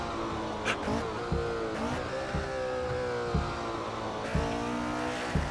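Porsche 910/8 race car from 1966 driving around Spa in a racing video game, its engine droning steadily near and loud with shifting pitch, punctuated by several brief tire or gear-change bursts.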